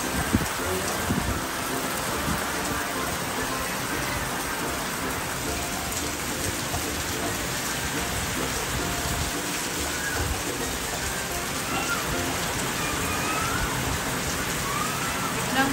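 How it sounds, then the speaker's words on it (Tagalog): Heavy, loud typhoon rain pouring continuously with a dense roaring hiss and gusty wind rushes, constant throughout without pause. "biglang lumakas ang ulan. Ayan o. At hangin."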